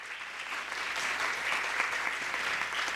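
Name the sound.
audience applause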